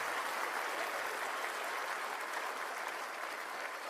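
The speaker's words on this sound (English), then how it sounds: "Can you give the senator a big round of applause?" An audience applauding a senator at an event, dense steady clapping throughout with no breaks, even in level and somewhat distant.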